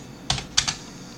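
A few quick keystrokes on a computer keyboard, three or four close crisp clicks in a brief burst, with no talking.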